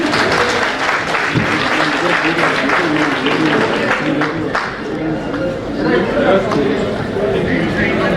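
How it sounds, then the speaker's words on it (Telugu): Sustained audience applause for three newly sworn-in officials at a youth federation swearing-in ceremony, steady dense clapping filling the hall throughout with crowd murmur mixed in. "మరొకసారి వారి ముగ్గురు కోసం గట్టిగా చెప్పట్లండి"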